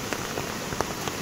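Rain falling in Ratnagiri in the Konkan region, a brief, steady patter of drops on surfaces close by with no voices.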